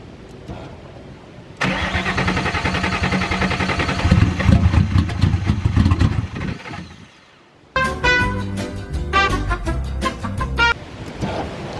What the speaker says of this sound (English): Let me give y'all a cold start in the turbo car.